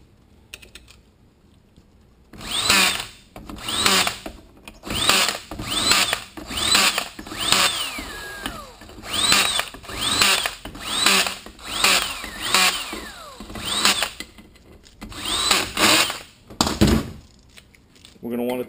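A power tool drives bolts into the stator of a Toyota A340 transmission, about a dozen short rhythmic whirring bursts in quick succession, close and loud, with brief pauses between them.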